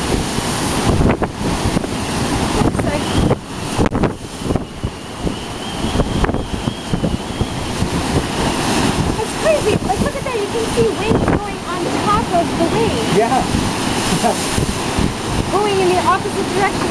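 Strong wind buffets the microphone beside Lake Winnipeg as large waves wash and slosh continuously, loud and close, with people talking intermittently over the roar.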